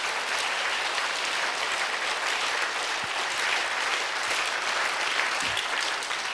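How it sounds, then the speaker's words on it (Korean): A church congregation applauding together during a sermon, dense sustained clapping at even loudness across the whole stretch, with no talk over it. "박수로 주님께 영광 돌립니다"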